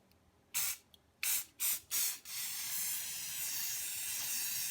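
Rust-Oleum glow-in-the-dark spray paint hisses from an aerosol can in three short bursts, then settles into one long, steady, close spray.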